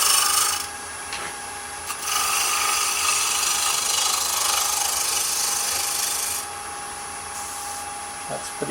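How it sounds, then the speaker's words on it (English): A wooden egg spinning on a lathe is cut by an asymmetric bowl gouge, a loud, continuous rasping scrape that stops briefly, resumes, and fades near the end. "Here we go back to my asymmetric bowl gouge."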